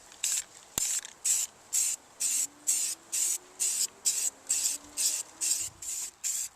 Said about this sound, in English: I'll hit the bare metal with the self-etching primer